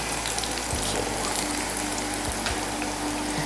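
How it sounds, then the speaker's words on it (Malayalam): Banana slices deep-frying in hot oil: a dense, continuous bubbling sizzle at close range with a few soft knocks, steady throughout and without voices. "ഇത് നന്നായി ഫ്രൈ ആണ്."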